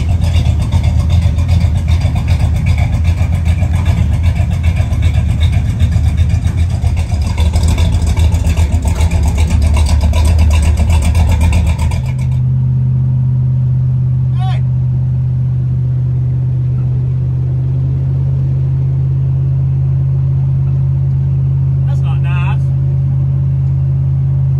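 Body-dropped square body dually truck driving, a loud close engine rumble for about twelve seconds that then drops to a steadier, quieter low drone with faint brief noises over it.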